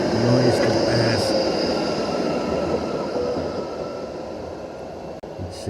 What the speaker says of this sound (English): let me wait for this tram and its noise to pass.